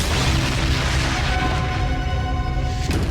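A huge nuclear bomb explosion near the military's Sandia base, heard as a loud, sustained deep rumbling roar that fills the whole span, with a sharper burst near the end.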